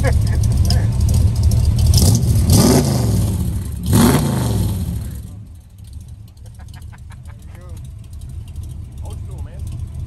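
An old car engine fitted with Cherry Bomb exhaust mufflers at an outdoor car and bike show, revving loudly in two sharp bursts, then settling into a rough, burbling idle, with voices talking nearby.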